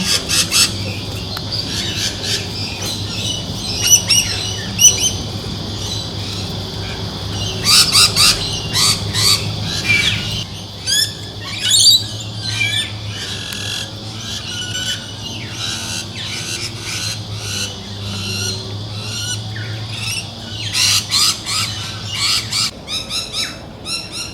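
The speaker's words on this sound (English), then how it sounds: "There's so many birds around." Many birds chirp and squawk in dense overlapping bursts, loud and close, over a steady low hum of background noise.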